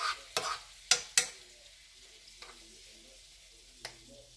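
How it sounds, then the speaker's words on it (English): Cod fillets frying in butter over lowered heat, a faint sizzle with a few sharp scrapes and taps as the butter is spread around the pan, then quieter stretches and one last scrape. "I want to spread this butter around so that it gets on all of the fish."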